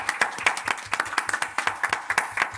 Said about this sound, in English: Big round of applause for all of our panelists and for all of you to staying with us.